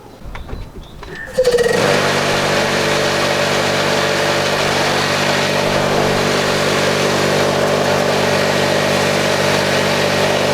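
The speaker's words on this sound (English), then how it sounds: "this small compressor here can eventually power quite big tools just by collecting all this volume of air and getting it up to a sensible pressure" A small air compressor's engine starts and then runs loud and steady close by, a continuous mechanical drone with no talk over it.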